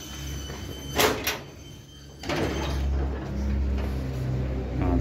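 Door on a mobile popcorn machine truck with LED lighting being opened: a couple of sharp metallic clunks and a slide, followed by a low steady hum, with no talking.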